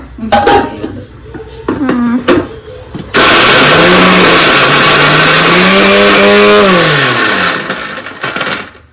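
Utensils clink and a lid clatters before a kitchen mixer grinder starts on coconut. A loud, steady whir follows for about five seconds, its motor pitch shifting slightly before it winds down.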